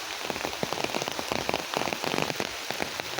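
Rain falling in the woods, pattering densely and steadily on leaves and surfaces with irregular close drops over a constant hiss, no voices.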